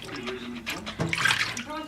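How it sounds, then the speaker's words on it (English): Lace is washed by hand in warm water, with gentle sloshing and splashing in a basin, soft and close, rising briefly in the middle, while a person talks quietly throughout. "start using your hands and washing it through"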